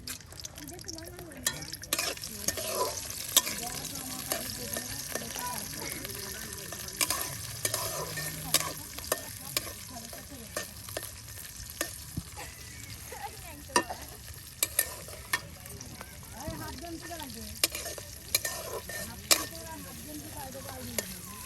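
Chilies and onions fry in a pan with a continuous close sizzle, broken by frequent sharp scrapes and knocks of a spatula stirring, with no talk.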